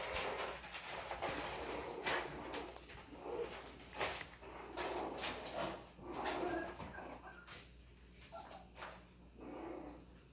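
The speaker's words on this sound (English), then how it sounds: "So right now you're seeing the alpha part of Francine's puppies" Chihuahua puppies whimper and yip in a cluster of high, thin cries, overlapping in short bursts, close and fairly quiet.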